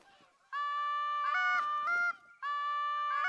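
Canada geese honk in theHunter: Call of the Wild, a flock calling in loud, overlapping nasal honks in two bursts with a short pause between.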